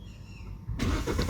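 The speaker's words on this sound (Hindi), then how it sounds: "मैंने गाड़ी स्टार्ट की" A Kia Sonet compact SUV that has an instrument cluster fault at 20,000 km starts up. The engine catches suddenly after a quiet moment and runs on with a loud, close, broad roar.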